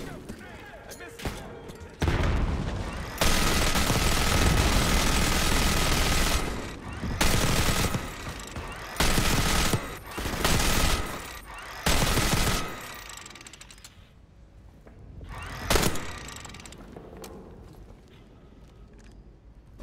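A minigun fires in the Black Ops 6 campaign, long roaring sustained bursts broken by pauses and mechanical whirring, loud and near, with speech between volleys.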